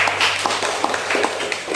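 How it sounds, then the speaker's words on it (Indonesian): A classroom of students clapping hands in unison: a short burst of rhythmic handclaps at moderate loudness, fairly close, with a faint low hum underneath and no speech. "Tepuk tangan dulu, kita semangat."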